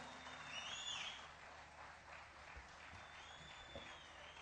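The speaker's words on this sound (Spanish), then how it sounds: "esos aplausos nos dan la vida" Audience applause at a folk music festival, a soft, steady patter of clapping from a crowd heard at a distance, fairly faint and continuous.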